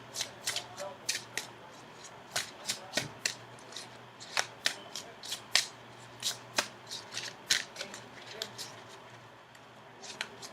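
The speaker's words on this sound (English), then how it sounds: "maybe I should actually go ahead and shuffle for your outcome card" Tarot cards are riffled and shuffled in quick, crisp bursts of papery flicks, close and fairly quiet, repeating in an uneven rhythm with no talking.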